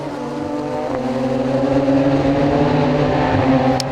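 Race cars in a 750 Motor Club battle at Donington roar steadily and loudly throughout, several engines layered in a sustained high-revving drone with no pauses.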